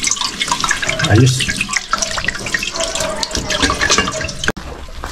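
Water runs from a tap at a rural home, a steady close splashing stream with a brief spoken word and some handling clatter over it before it cuts off near the end.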